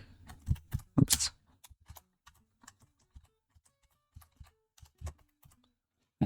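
Typing on a computer keyboard while coding, irregular bursts of close, crisp key clicks with brief pauses between them, quiet room and no speech.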